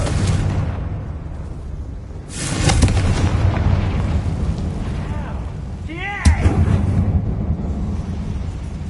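The Confringo explosive spell from the Hogwarts Legacy video game goes off as a loud booming blast inside a mine, heard over a dense layer of game ambience and music, with a sharp crack near the end.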